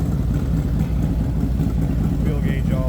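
A 1995 Harley-Davidson Road King engine running at a low, steady idle, close and loud with an even pulsing rumble, while someone talks briefly over it.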